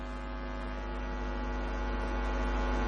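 Electric ceiling fans running in a room where a religious talk is held, giving a steady, even mains-like hum with no other sounds over it for the whole stretch.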